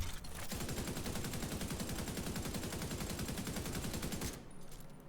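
Sustained automatic assault rifle fire from The Division 2, a long-range AR emptying a magazine in a rapid, steady rattle of shots for about four seconds, loud and close, then cutting off.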